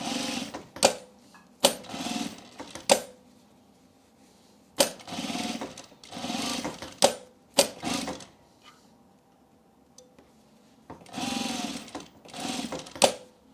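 Sewing machine stitching fabric with a very short stitch length, heard as short, uneven whirring bursts stopping and starting with quiet gaps between, close and fairly loud with no talk.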